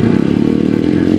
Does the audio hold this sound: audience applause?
no